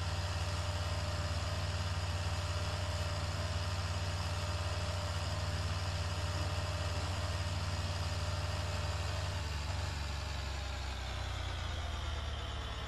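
Steady drone of a Farming Simulator 2013 tractor engine, a deep, even rumble held close and loud, easing slightly lower near the end, with no talking.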